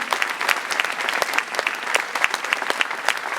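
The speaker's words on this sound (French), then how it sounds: "Je crois qu'on peut les remercier et les applaudir." Steady, dense applause from an audience at a public political meeting in Trappes ahead of the European election, loud and continuous throughout with sharp overlapping claps.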